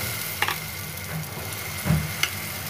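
Besan chilla batter with semolina poured into a hot pan, a soft steady sizzle with a few light clicks and a brief dull thud.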